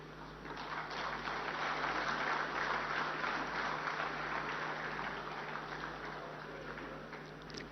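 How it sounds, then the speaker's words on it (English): An audience at the 25th ICID Congress opening ceremony plenary in a hotel hall breaks into sustained, dense applause that holds steady for several seconds before tapering slightly. "Can we have a huge round of applause for sir"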